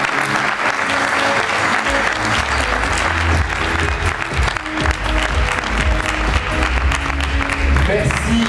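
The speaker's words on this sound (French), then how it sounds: "Merci de vos applaudissements chaleureux" Warm applause from an audience at an awards ceremony for MOF titles in Aveyron, a dense, steady roar of many hands clapping throughout with low rumble beneath and some voices mixed in.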